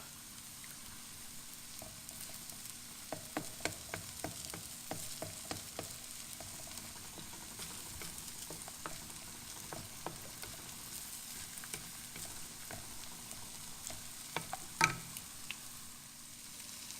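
Eggs fry in a pan for smoked fish fried rice, a soft continuous sizzle with scattered ticks and pops and a couple of light utensil clacks, fairly quiet and with no one talking.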